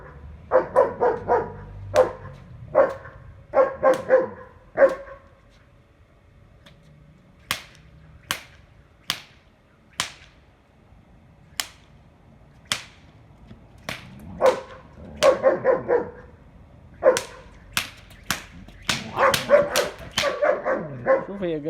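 A guard dog in training barks repeatedly in sharp bursts, sometimes in quick clusters and sometimes as single yaps spaced a second or two apart, close by.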